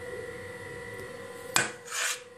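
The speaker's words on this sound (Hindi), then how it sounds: "तो पहले हम सारे ये खुश्क जो इंग्रेडिएंट्स हैं इनको मिक्स कर लेंगे आपस में अच्छी तरह।" Dry ingredients for chocolate cookies being stirred together in a bowl, soft scraping and rubbing strokes over a faint steady hum, with a sharper knock midway.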